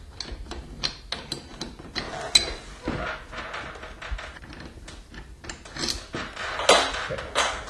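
A broken garage door torsion spring is unwound with a winding bar, producing close metallic clicks, clanks and ratcheting knocks in an uneven rhythm, with some louder impacts.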